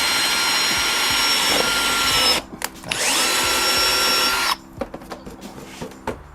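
A power drill bores slowly into the front lip of a Nissan 350Z, a loud close whine running steadily, pausing briefly, resuming, then cutting off to a few clicks and handling sounds.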